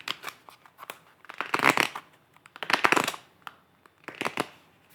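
New tarot cards with stiff, slightly sticky cardstock are shuffled in several bursts of riffling and slapping, separated by short pauses and lighter taps, close and fairly loud.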